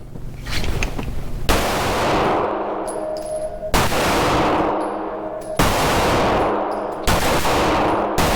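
A Smith & Wesson M&P 2.0 pistol fires at an outdoor range, with loud, close reports that hit hard and ring out in long, echoing decays, heard alone.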